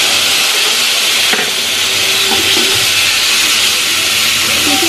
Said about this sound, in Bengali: এবার মশলাটা দিয়ে দিলাম